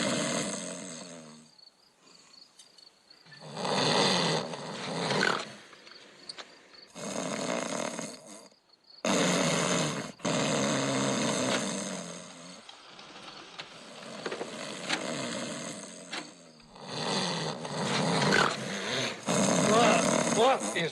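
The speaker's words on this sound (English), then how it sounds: "Any idiot can make snoring noises into a tape recorder." A tape recording of a person snoring plays in repeated bursts of rasping, rattling breaths with short pauses between them, moderately loud and close.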